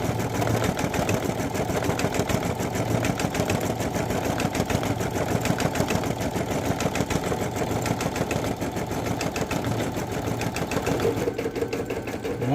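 An embroidery machine stitches dark brown thread on a Halloween patch, a steady fast mechanical chatter of needle strokes running loud and unbroken throughout.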